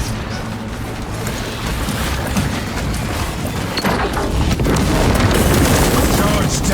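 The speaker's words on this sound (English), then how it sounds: "Charge detonated. Tyranids destroyed." A melter charge detonating in a Warhammer 40K video game against Tyranids, a loud sustained booming roar with crashing debris and battle noise, under voiced game dialogue.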